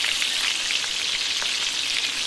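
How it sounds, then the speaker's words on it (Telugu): Onions frying in hot oil in a pan, a steady dense sizzle and crackle that holds close and loud throughout, with no talking. "ఎర్రగడ్డలు బాగా దోరగా వేసుకొని అల్లం మసాలా వేసుకొని"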